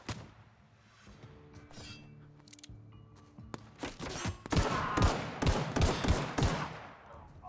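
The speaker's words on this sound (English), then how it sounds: "Assault rifle" Assault rifle fire in The Outer Worlds, with a quieter stretch of game sounds giving way to a run of loud, sharp bursts of automatic shots in a rapid rhythm.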